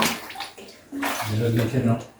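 Water pours steadily out of an opening in a cave, a continuous rushing flow heard up close, with people speaking over it.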